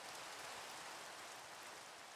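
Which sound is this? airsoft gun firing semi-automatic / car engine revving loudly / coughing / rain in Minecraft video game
rain in Minecraft video game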